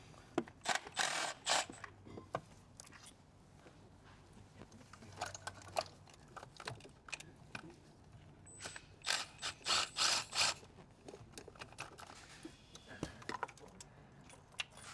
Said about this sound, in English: Now that I can see the bolts for my ignition coils, I can start to remove those.